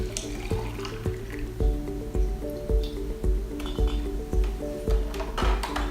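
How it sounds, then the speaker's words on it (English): Celery juice being poured into one-quart jars, with a steady liquid stream and a rhythmic series of glugs and clinks against the glass at close range. "we're going to fill these 1 quart jars up with this delicious liquid sunshine"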